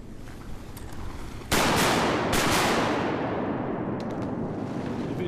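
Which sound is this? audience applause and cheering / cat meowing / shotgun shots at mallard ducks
shotgun shots at mallard ducks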